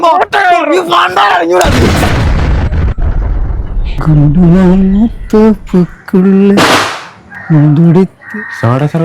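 A crude homemade explosive goes off in a sudden loud blast that rumbles away for a second or two, surrounded by excited, high-pitched voices talking and calling.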